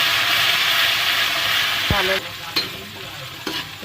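Gobindobhog rice frying in ghee with bay leaves, cashews and raisins sizzles steadily in a pan for payesh, then a spoon scrapes and stirs with a few sharp clicks against the pan as the sizzle quiets.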